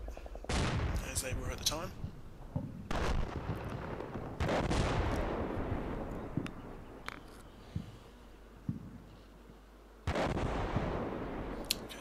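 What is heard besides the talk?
artillery barrage in the video game Combat Mission: Battle for Normandy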